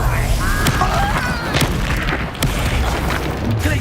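In the Hogwarts Legacy video game, a Confringo blasting spell sets off booming explosions over a busy, noisy combat soundscape with sharp bursts and sparkling whooshes, and no voices.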